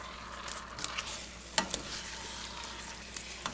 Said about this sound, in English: I'm going to stir this pork into that caramelized sugar